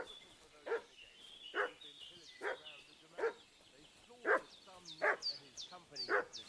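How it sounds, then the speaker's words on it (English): A dog in a video game about a talking cat traveling through the Kingdom of Bohemia barks in about seven loud, evenly spaced bursts, with a soft ambient bed between the barks. "What's that dog making such a fuss about?"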